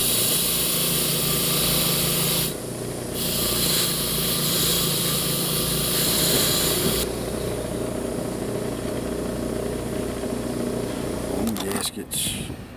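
A freshly rebuilt carburetor with new needle and seat feeds a small engine that runs and idles steadily, close and continuous, while someone talks over it; near the end a few brief clunks break through.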